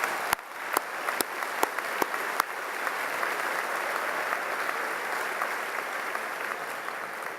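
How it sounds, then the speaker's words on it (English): A commencement audience at a spring university graduation ceremony applauds the mothers, a few sharp individual claps first, then a sustained dense wash of clapping filling the hall, steady and moderately distant. "Let's give them another great round of applause"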